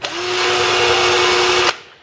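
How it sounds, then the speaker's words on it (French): A power drill fitted with a plastic-bristle brush scrubs an engine gasket surface on a Corrado VR6 24V swap, one loud steady whirring burst of about two seconds that stops abruptly. "c'est une brosse spéciale pour les perceuses, avec poil plastique"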